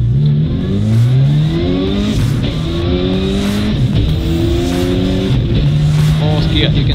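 A four-wheel drive rally car accelerating hard through a corner, its engine loud and close, revving up through rising gear sweeps with tire noise, while people talk over it.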